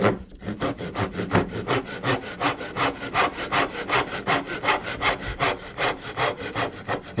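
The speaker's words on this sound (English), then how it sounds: "Be careful not to saw into the cheek of the tenon." Hand saw cutting across the shoulder of a wooden tenon in a mortise-and-tenon joint, a steady rhythmic rasp of back-and-forth strokes, about three per second, close and clear with no talk.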